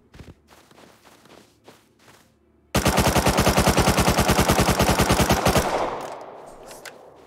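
A Tommy gun (Thompson submachine gun) fires a long, rapid, loud burst of about three seconds in a video game, after a few scattered distant shots and before a fading echo.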